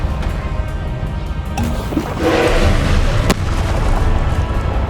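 An Expelliarmus spell impact in the video game Hogwarts Legacy lands as a heavy low boom over a continuous rumbling battle din, with a whooshing surge midway and a sharp crack near the end.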